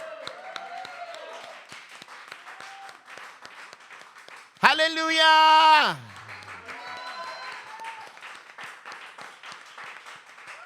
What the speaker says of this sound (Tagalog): Yung malakas nga na palakpak na may kasamang sigaw.